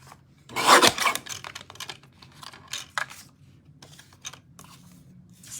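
Paper being trimmed for a Stampin' Up! papercraft card, with a loud rasping cut near the start followed by a series of softer scraping and rubbing strokes.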